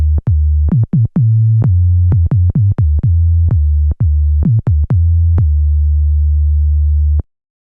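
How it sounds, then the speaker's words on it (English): A pure, steady low sine tone from a KORG minilogue synthesizer's self-oscillating filter hums loudly, broken by a series of short clicks and pitch blips at uneven intervals, then cuts off abruptly. "use the filter as a sine wave oscillator"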